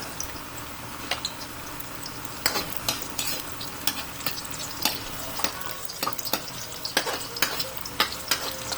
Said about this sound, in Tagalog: lagyan natin itong bawang. Tignan natin siya maluto.